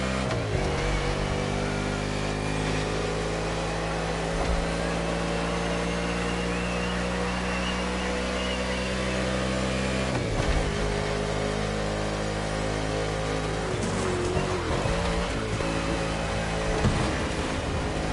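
A car engine in a racing video game drones steadily and loud throughout, rising in pitch as it accelerates, with brief dips in tone partway through and near the end.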